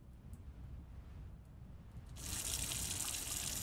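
Water pours into buckets in The Last Farmer farming game, starting as a faint trickle and then swelling into a steady, bright, hissing stream that continues to the end.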